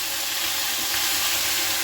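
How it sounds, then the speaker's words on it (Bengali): Fish sizzles as it fries in a pan for a second batch, a steady, close hiss of hot oil filling the moment with no talking. "এইদিকে আমার আরেকবার মাছ ভেজে নিচ্ছি আর একটা।"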